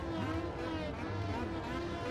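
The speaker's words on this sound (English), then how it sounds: "I really don't understand the engine noises in this game." Racing car engine in R: Racing Evolution, a touring car video game set on the Suzuka circuit, a steady droning whine with shifting pitch, heard alone at moderate level.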